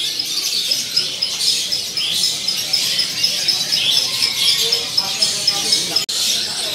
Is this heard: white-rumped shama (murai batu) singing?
yes